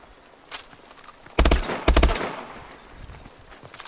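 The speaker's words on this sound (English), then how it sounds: "I like the burst fire or something." Burst-fire gunfire from a weapon in Call of Duty: Advanced Warfare, with two sharp close clusters of rapid shots separated by a brief pause, each ringing out over faint background ambience.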